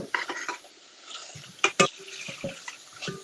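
Celery, carrots and onions cook in a soup pot for tomato vegetable soup, with a spoon scraping and clinking through them in short, close bursts and a faint sizzle underneath while someone talks.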